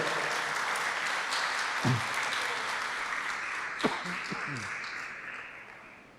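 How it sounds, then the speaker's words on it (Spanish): A church congregation at a Good Friday service claps in praise of the Lord, with a steady broad wash of applause that runs the whole time, a few louder claps standing out near the middle. "¿Por qué no le da un aplauso al Señor?"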